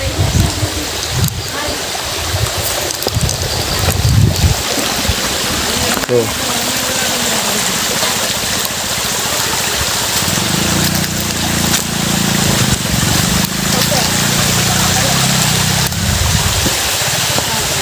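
A small waterfall streams steadily down from above, a constant rushing flow under an engine-like drone, with voices talking over it.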